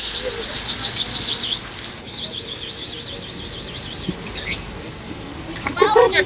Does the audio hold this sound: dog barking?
no